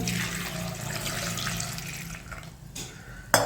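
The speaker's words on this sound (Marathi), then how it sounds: "त्या एका पातेल्यात टाकायच्या त्याच्यात एक तांब्यावर पाणी टाकायचं" Water from a small metal pot poured into a cooking vessel holding seven or eight moringa drumsticks, a rushing, splashing pour through most of the moment, ending with a short clank.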